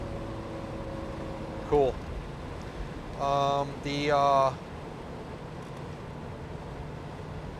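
A 1983 GMC Vandura G2500 van cruising at 60 mph gives a steady low road and engine drone inside the cab, broken by short bursts of someone talking.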